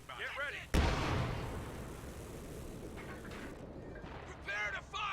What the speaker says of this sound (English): Pack howitzer is going to bombard that structure.